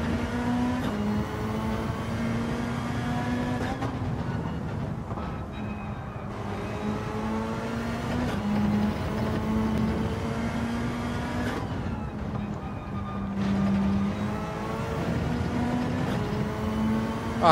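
A Mitsubishi race car engine in the Gran Turismo 7 video game, droning steadily with repeated rising pitch sweeps as it accelerates through the gears and briefly lifts off between pulls.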